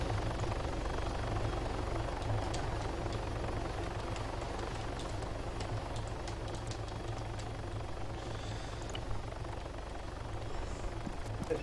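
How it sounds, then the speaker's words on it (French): A helicopter in the Arma 3 Altis Life video game flies with a steady, loud rotor and engine drone that holds through the whole stretch, with no voices over it. "C'est quoi cet hélicoptère là?"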